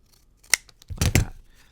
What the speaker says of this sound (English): just use the edge as a guide to trim the other one to an exact match